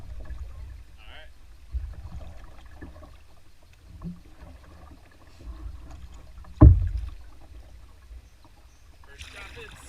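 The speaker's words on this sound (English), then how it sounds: "First rapids." Canoe on river rapids in Quebec, soft paddle splashes and water movement against a low rushing background with one sharp knock or thump midway; a voice speaks briefly.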